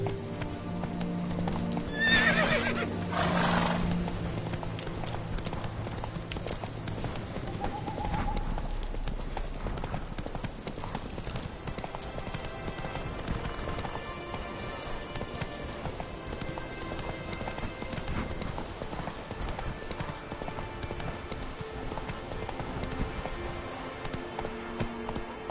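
Hoofbeats of a horse galloping steadily in The Witcher 3, with a neigh near the start, continuous rhythmic clip-clop throughout at moderate loudness.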